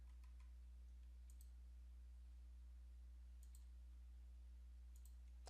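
Computer mouse clicking in a quiet room: a few sparse, faint, sharp clicks spaced seconds apart over a steady low electrical hum.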